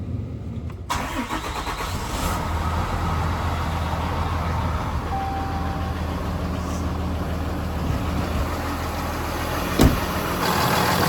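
A dump truck engine cranks and catches, then settles into a loud, steady diesel rumble with a faint mechanical clatter throughout.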